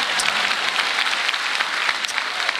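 A stand-up comedy crowd claps for a comedian's joke, close, dense applause that keeps an even, lively level across the whole stretch with no voices over it.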